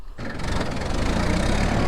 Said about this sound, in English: This is just my dad and my aunt's little Kubota Tracker.